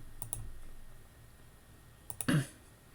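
A few sharp computer mouse clicks while working in an Excel dialog box, a quick pair near the start and a louder cluster near the end, alone over quiet room hiss.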